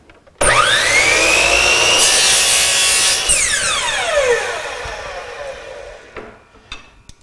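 A power saw trims the end off a wooden workpiece in a single loud cut lasting several seconds, its pitch rising as the blade bites in, then falling away as the saw spins down, with no talk.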